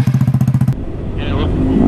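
A motorcycle with a stock exhaust pulls a wheelie, its engine giving a rapid, even run of throbbing pulses for under a second before fading into a steady, blurred background rush.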